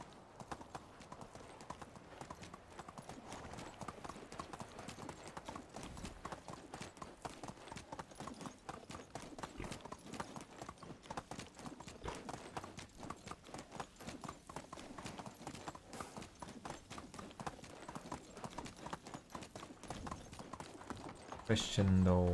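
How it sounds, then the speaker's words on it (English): A horse's hooves clip-clop in a rapid, even rhythm through the whole stretch in the Medieval Dynasty video game, close and moderately quiet, with a brief louder bump at the very end. "Can my horse gallop all the way home?"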